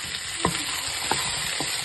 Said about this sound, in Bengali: দেখুন আলু আর ফুলকপিটা আমার একটু সামান্য ভাজা ভাজা হয়েছে।